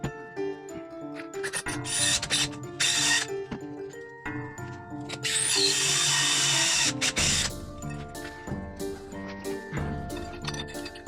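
Drill boring holes through a stack of boards in bursts, close up, with whirring runs broken by brief pauses and clicks of handling.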